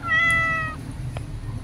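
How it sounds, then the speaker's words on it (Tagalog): One of two pet cats gives a single clear, close meow lasting under a second, followed by quiet room tone. "paglaruan natin ang dalawang pusa."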